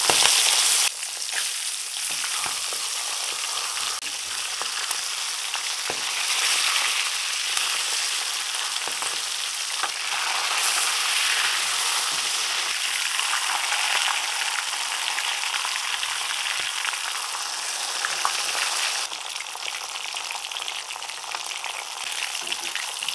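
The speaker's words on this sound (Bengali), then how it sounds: "তেল গরম হয়ে গেছে, এবার মাছ দিয়ে দেব" Pangas fish fries in hot oil in a wok with a loud, continuous sizzle that crackles and surges now and then. It carries on steadily for over twenty seconds and no one speaks.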